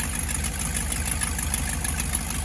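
An old 1980s Ford F-150 engine, smoking and leaking oil onto the exhaust after a fire, runs at a steady idle with a close, even low chugging rumble and no voices.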